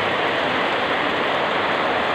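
Steady rain falling in Cavite, a dense, continuous wash of hiss that stays loud and even throughout with no individual drops standing out and no voices.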